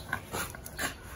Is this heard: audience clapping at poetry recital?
no